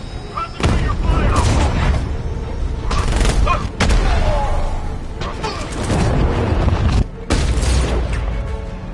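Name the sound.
gunfire in the video game Batman: Arkham Knight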